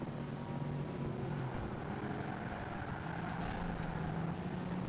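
A car engine and exhaust during a street race in the video game Project Gotham Racing 2 produce a constant droning roar with faint tonal whine, steady and unbroken throughout.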